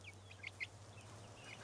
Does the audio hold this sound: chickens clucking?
yes